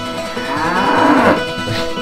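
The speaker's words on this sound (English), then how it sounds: "Here's some cows, by the way." Cows moo in the video game Diablo, a single drawn-out bovine low that swells and fades over about two seconds, heard clearly with no talking.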